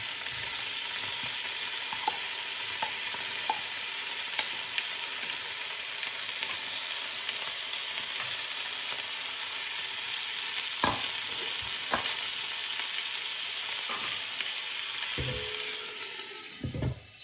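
Pork filet mignon and onions frying steadily in a pan, a continuous close sizzle with occasional stirring scrapes and knocks, no talking.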